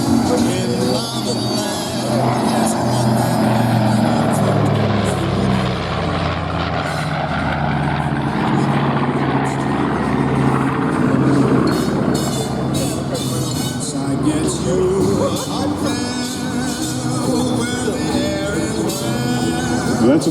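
A large airplane flies along the show line at an airshow at Maxwell AFB in Montgomery, Alabama, its droning engine roar sustained and loud for the whole stretch, with a commentator talking over it.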